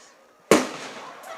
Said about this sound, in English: There went the cannon.